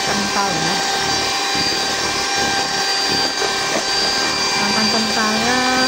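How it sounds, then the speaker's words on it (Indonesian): An electric hand mixer whirs steadily while beating eggs with butter for a whole-wheat chocolate-chip bread dough, a continuous loud motor drone that runs the full length with faint talk beneath it. "telurnya kita kocok, kita mixer dengan mentega butter tadi"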